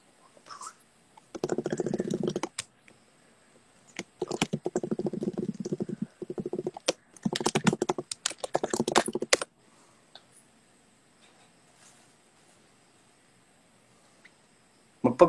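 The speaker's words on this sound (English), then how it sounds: "keyboard ASMR." Bursts of rapid keyboard typing come in several clustered runs separated by short pauses, close and crisp with clicky keystrokes, ending in near silence.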